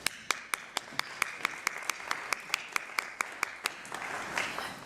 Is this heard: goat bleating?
no